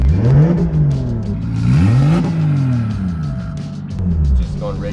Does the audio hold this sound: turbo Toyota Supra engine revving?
yes